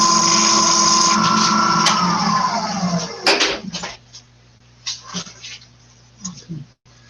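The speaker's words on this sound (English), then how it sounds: "I can sand it a little more, get it a little smoother" A wooden bowl spinning on a woodturning lathe at a maker fair is sanded: a steady, high whirring hum lasts about three seconds, then winds down in pitch, followed by a few short knocks and handling noises.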